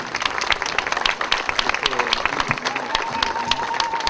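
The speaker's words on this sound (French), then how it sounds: "On peut applaudir." Applause from a crowd gathered before a monument at an Assyrian genocide commemoration, with dense clapping mixed with voices and a steady tone running underneath.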